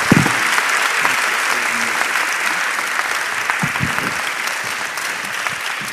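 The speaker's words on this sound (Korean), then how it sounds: "여러분의 첫 번째 멘토로서 와주신 박서원 대표께 큰 박수 부탁드립니다" An audience applauds at a design forum, with sustained, dense clapping from a large crowd at steady loudness for the full six seconds.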